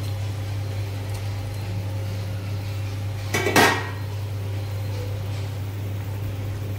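Fried potatoes and hilsa fish pieces go into a cooking pan with one brief, close metallic clatter partway through. A steady low hum runs throughout, and nobody speaks.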